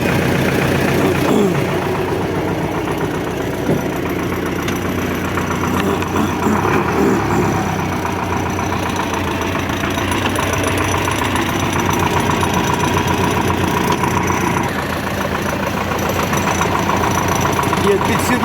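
A tractor engine idles steadily and loudly nearby, a constant rough rumble, with voices talking over it.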